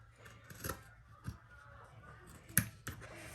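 Scissors snip thread on an in-the-hoop cotton zipper purse: one crisp, close cut rings out amid quiet handling rustles and small clicks.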